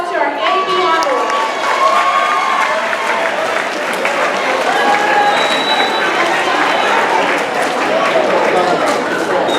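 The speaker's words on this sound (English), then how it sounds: "Your round of applause to our Davion Wood." Audience applause at a house meeting, sustained clapping from a crowd with cheering and shouting voices mixed in, loud and continuous throughout.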